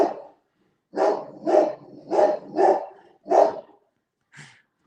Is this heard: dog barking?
yes